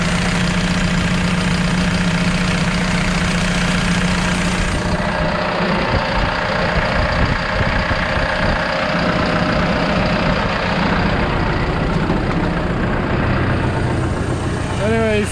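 A JLG telehandler engine idles steadily throughout, a constant close mechanical drone with a low hum.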